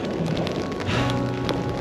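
Rain comes down during a bikepacking ride, a brief, dense patter of drops on surfaces with a steady hiss, close and fairly loud.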